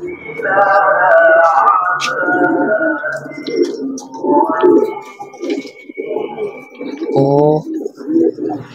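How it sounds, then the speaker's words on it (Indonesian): Domestic pigeons at a bird kiosk coo in layered, throaty rolling calls, close and steady with overlapping birds, and a person briefly speaks. "banyak ya burungnya ya"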